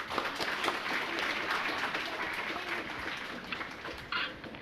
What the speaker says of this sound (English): Can we give them a huge round of applause?